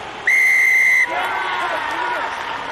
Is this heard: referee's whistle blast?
yes